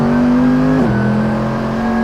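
A Mercedes-AMG GT3 race car at full power on the JunChi circuit, its loud engine droning steadily close by, with the pitch dropping at a gear change partway through before the engine pulls on.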